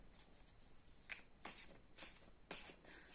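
Soft tarot card shuffling with several crisp riffles and flicks in an irregular rhythm, close and quiet, as cards fall out.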